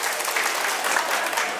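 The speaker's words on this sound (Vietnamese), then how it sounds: "Xin cho một tràng vỗ tay thật lớn" Audience applause at a club launch ceremony in Bao Loc city, Vietnam, a thick, continuous round of clapping from a crowd, steady and fairly close throughout.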